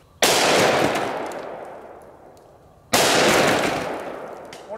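Two loud magnum revolver gunshots, .44 and .357 Magnum, crack about two and a half seconds apart outdoors, each a sharp blast followed by a long fading rumble of echo.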